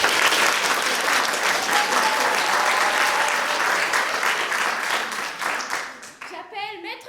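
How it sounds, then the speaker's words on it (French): Sustained applause from a school theatre audience at a college play, dense and loud for several seconds before fading, as a voice begins speaking near the end. "Vous êtes censé applaudir, c'est quand même la présidente de la Terre."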